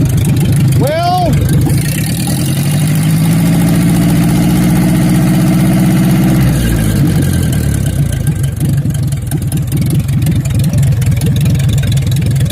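A Ford 2N/8N tractor engine idles with a valve tick, its loud low rumble steady and close, while a person talks over it.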